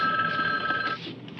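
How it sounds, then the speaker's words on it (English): A telephone bell rings in a 1970s home, a steady, fairly faint trill lasting about a second before it stops. "Can't you hear that phone ringing?"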